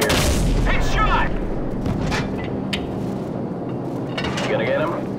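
AC-130 gunship cannon fire in Call of Duty 4: Modern Warfare's Death From Above mission: a heavy boom opens, followed by rolling low rumbles and distant thuds beneath radio-style voices.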